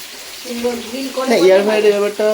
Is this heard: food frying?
yes